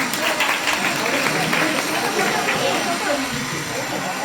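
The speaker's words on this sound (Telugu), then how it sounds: "క్లాప్స్ కొట్టండి అందరూ కూడా" Applause from an audience at a gift prize event, a dense wash of many hands clapping steadily throughout with crowd noise and some voices mixed in.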